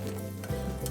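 Garlic cloves and asafoetida hit hot oil for a tempering of Indian amla pickle, a soft, brief crackling sizzle close by with faint ticking pops.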